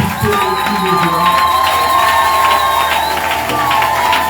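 A church congregation shouts and cheers loudly in praise of God, a dense, sustained crowd roar with whoops and raised voices running through the whole stretch.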